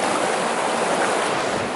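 A Dartmoor river rushes steadily in a continuous broadband wash of flowing water, close and loud, with no break across the short stretch.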